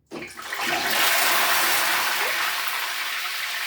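Chicken pieces for biryani dropped into very hot oil in a pan, bursting into a loud, dense, hissing sizzle that swells within a second and carries on steadily.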